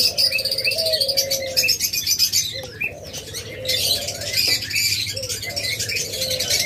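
Caged lovebirds, budgerigars and cockatiels chirp and tweet steadily at close range, a dense overlapping chatter with occasional wing flaps and cooing pigeon-like calls underneath.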